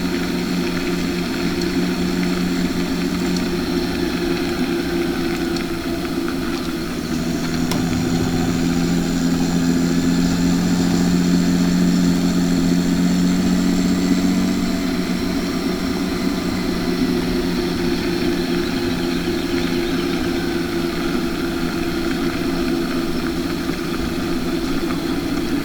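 A tractor engine running steadily, a loud, continuous droning hum with a low throb that holds level throughout, with no voices.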